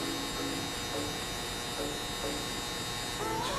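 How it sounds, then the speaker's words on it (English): Close, steady electric buzz of a hair clipper during a haircut, a constant motor drone with a few brief changes in pitch as it works across the scalp, no talking. "we'll use the corner of the clipper to really get in there and double check all our work"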